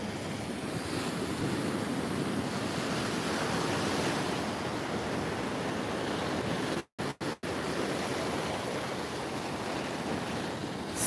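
Ocean waves break on a shore in a steady, loud broadband wash with wind noise on the microphone, briefly cut by a few short dropouts near the end.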